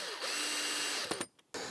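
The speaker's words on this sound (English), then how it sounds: "it's going to be quite difficult to get the drill in." A power drill driving screws into wooden pallets for a leaf mould bin at a UK allotment whirs loudly and steadily for about a second, then cuts off in short stops and restarts.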